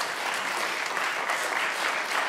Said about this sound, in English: Let's give him a clap offering in this place.